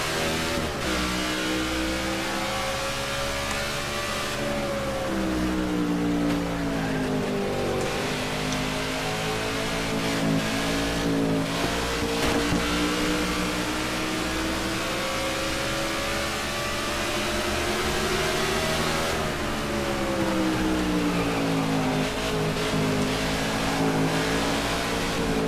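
Several stock car engines roar at the start of a NASCAR '14 race at New Hampshire Motor Speedway, a loud continuous drone with pitch rising and falling as the cars accelerate and lift around the track.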